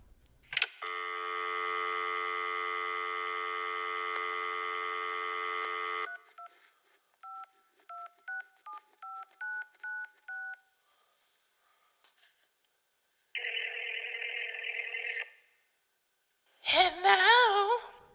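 A phone call placed over a speaker: a long steady tone, a quick run of about ten dialing beeps, a pause, then a ringback tone, ending in a short warbling burst. No one talks.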